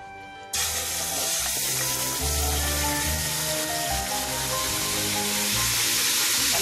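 Fish slid into a hot pan already cooking garlic, onion, ginger and vegetables, starting with a sudden onset and then a loud, steady, close sizzle of frying that runs on without pause, no voices over it.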